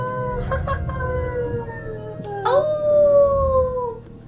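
Long wavering howl of wind from the video game Cinders, rising into a sustained moaning tone that slowly falls, heard near and fairly loud over a low rumbling bed with no talk.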